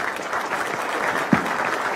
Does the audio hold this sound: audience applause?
yes